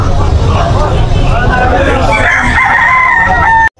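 A young stag rooster crows loudly at a crowded Malabon market stall, one drawn-out call rising over the babble of people talking nearby.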